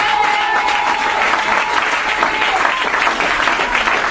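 A church congregation applauds in acclaim of the Lord during a French-language prophetic service, steady loud clapping from many hands filling the whole stretch with no pause.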